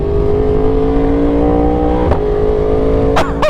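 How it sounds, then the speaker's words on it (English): A Yamaha R1 sport motorcycle idling in gear with the clutch pulled in, a loud, steady droning engine tone with a couple of sharp blips near the end, close up and without speech. "As soon as I'm in gear with the clutch in, it starts camming. I mean, it sounds like a cammed bike."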